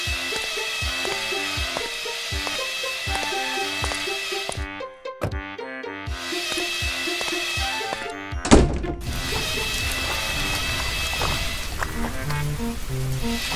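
Rain in a children's cartoon animation: a steady hiss of rainfall sets in partway through and continues under cheerful rhythmic background music. It stays fairly even and moderately loud, with no talking over it.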